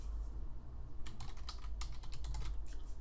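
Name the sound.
typing on computer keyboard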